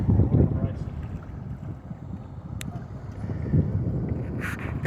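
Motorboat on a lake towing people tubing, a low steady engine rumble under heavy wind buffeting, with a voice speaking over it.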